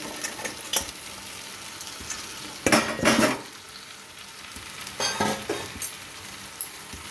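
Fried crabs and boiled potatoes are stirred in a sizzling pan, with a spoon scraping and clinking against the metal in a few louder bursts over a constant soft frying hiss.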